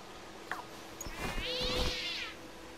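Cats meow in the video game Stray, several short, clear mewing calls close by, rising and falling, with a soft background tone and no talking.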